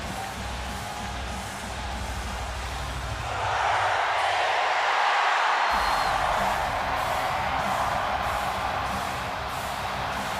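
Crowd noise fills a sold-out London O2 arena in a WWE SmackDown video game, a steady roar that swells louder midway as cheering rises, with no talk over it.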